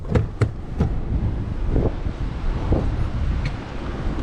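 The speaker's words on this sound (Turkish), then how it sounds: "Dışarıda sağlam fırtına var" Strong storm wind roars steadily outside a caravan at night, gusting and buffeting with a few sharp knocks and rattles at the start.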